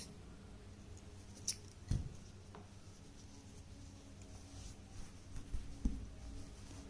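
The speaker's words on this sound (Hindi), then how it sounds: "यहाँ पर धागा काट देंगे" Small scissors snip crochet thread in a quiet room, making faint, brief clicks, with a couple of soft cuts spaced a few seconds apart over light handling rustle.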